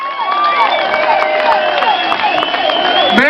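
Audience at an end-of-year concert in Gicumbi, Rwanda, making a loud, steady crowd noise of cheering and clapping with shouts mixed in, carrying on without a break.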